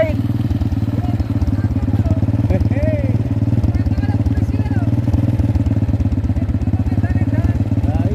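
A Honda motorcycle, specially set up for riding into a reservoir bed, runs nearby with a loud, steady rhythmic engine chug, while people talk over it.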